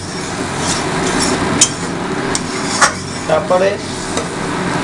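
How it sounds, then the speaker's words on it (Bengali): Fried brinjal with green chillies, salt and turmeric being stirred in a pan: steady sizzle with intermittent spatula scrapes and taps, and a brief spoken word. "এবারে জিনিসটাকে ভালো করে নাড়াতে হবে।"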